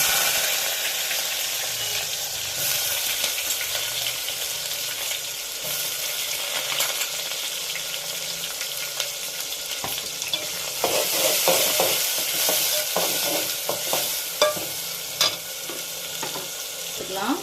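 Onions, garlic and curry leaves sauté in oil for a fish gravy, with a constant sizzling hiss and, in the second half, repeated sharp taps and scrapes of a ladle stirring the pan.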